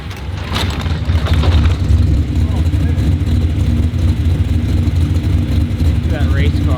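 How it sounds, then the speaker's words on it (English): A race car engine rumbles loudly out on the street nearby, a steady deep throbbing drone that persists throughout. "Look at that race car."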